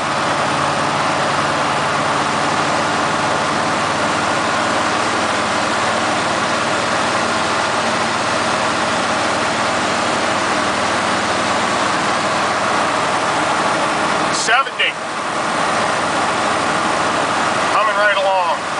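Inside a Chevrolet K30 with a 6.2 diesel and NV4500 transmission cruising on the road, a constant low engine drone blends with broad road and wind noise. A brief rattling disturbance interrupts the steady hum near the end.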